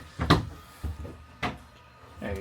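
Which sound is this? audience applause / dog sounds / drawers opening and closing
drawers opening and closing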